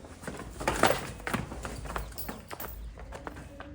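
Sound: buffalo heifer walking, hoof steps

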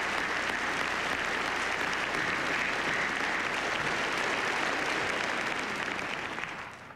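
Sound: applause

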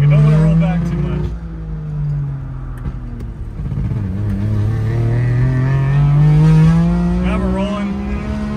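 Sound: modified 1961 Saab 96 starting to drive uphill

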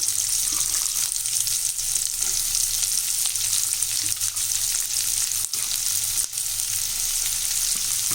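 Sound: frying chopped onions in hot oil

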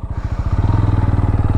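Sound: TVS Apache RTR 200 motorcycle engine starting slowly

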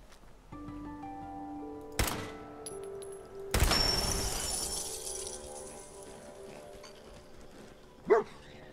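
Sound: dog barking in Fallout 4 video game

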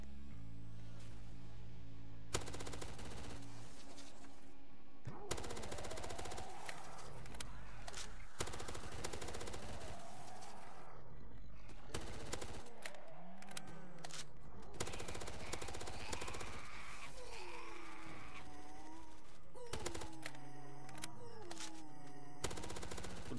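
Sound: gunfire from PDW-R in video game Roblox Zombie Uprising

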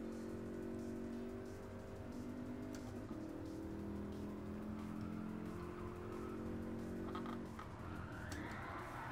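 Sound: car drifting around a corner in Gran Turismo Sport video game

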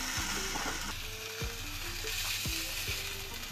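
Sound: tandoori chicken pieces pan-roasting on gas stove

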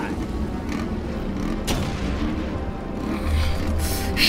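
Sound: gunfire in video game Terminator Salvation

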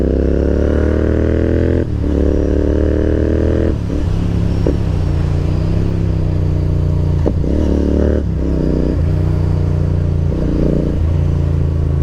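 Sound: motorcycle engine and exhaust

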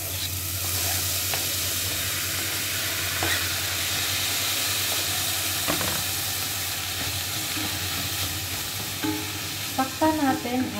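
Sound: tomatoes frying in a pan for fish sarciado

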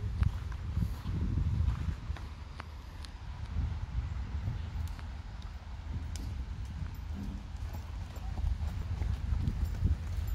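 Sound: horses walking, hooves clip-clopping

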